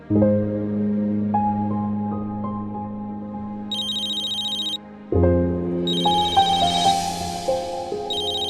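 A phone ringing with a sustained electronic ringtone melody, pausing briefly then repeating, with higher chiming tones layered on top.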